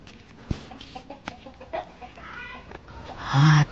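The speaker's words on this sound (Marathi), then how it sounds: "राजाचं काय कोंबडा पकडतोय काय" A rooster squawks and clucks in scattered bursts as someone tries to catch it, with short scuffles and voices nearby, ending in a loud, close, panicked squawk.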